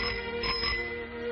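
A bicycle bell rings in a short, bright burst, with bandwidth-limited sound typical of an old film soundtrack and a steady hum beneath it.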